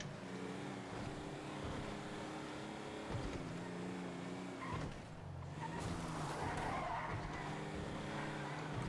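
A car in GTA V drives fast and skids, engine roaring steadily while tires squeal and scrub across the road, loud and close throughout.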